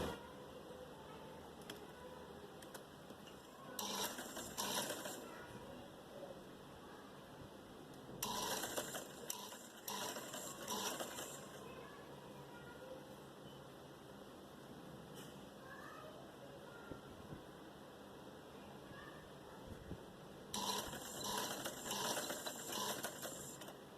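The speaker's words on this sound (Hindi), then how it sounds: "मैं इसके ऊपर सिलाई लगा के इस पाइपिंग को जॉइंट करूँगी" Sewing machine stitching piping onto a short frock, three short bursts of rapid mechanical whirring separated by long quiet stretches with faint handling noise, close but soft.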